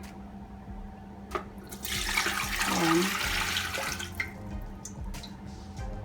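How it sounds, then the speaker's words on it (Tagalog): Tap water pours into a steamer pot for steamed fish, a broad rushing stream that swells in the middle and then tapers, with a brief word spoken near the end. "Next, maglalagay tayo ng tubig sa steamer."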